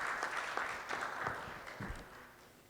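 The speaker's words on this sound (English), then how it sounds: "If I could please have a round of applause for our two gentlemen on stage here." Audience applause for two panel guests on stage at a business finance panel, scattered claps over a soft crowd wash that gradually thins and fades toward the end.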